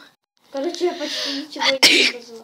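A single sharp sneeze bursts out near the end, close and loud, right after a girl's short spoken remark.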